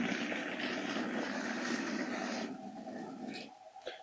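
A Hornby model train running on its track straight from the box, giving a steady, noisy motor whir and rattle that fills the clip before thinning out near the end.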